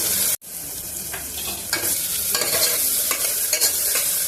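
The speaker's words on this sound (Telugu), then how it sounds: "ఇది ఫ్రెష్గా దంచిన అల్లం వెల్లుల్లి పేస్ట్ ఒక స్పూన్ అయితే చాలు ఇది కూడా కొంచెం పచ్చివాసన పోయేంత వరకు వేయించుకున్నాము" A spoonful of freshly pounded ginger garlic paste frying in a pan, with a steady close sizzle under repeated scraping stirs, after a brief dip in sound at the start.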